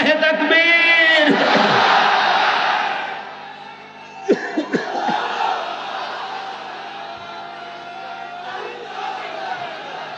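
Rally crowd roaring a takbir in unison, a loud sustained massed shout that fades after about three seconds, followed by scattered calls and a lower murmur of the gathering.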